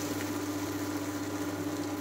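Hot water going into a potato and pointed gourd curry with moong dal, heard as a steady, broadband wash of liquid with a low hum underneath, continuous and fairly close, with no voices.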